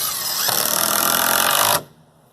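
A power drill whirs loudly at close range as it drives a screw into wood, holding one sustained burst for under two seconds before stopping abruptly.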